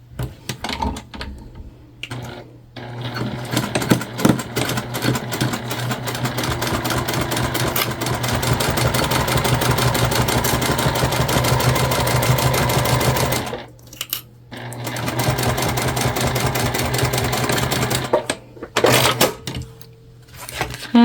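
A sewing machine runs a tote bag seam in rapid, rhythmic stitching. It holds steady for long stretches, pauses briefly twice, then starts up again, close and loud with no talking.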